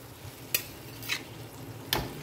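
Salted, turmeric-coated hilsa fish pieces are slipped one by one into hot oil in a pan, giving soft sizzling with three brief splashy bursts over a steady frying hiss.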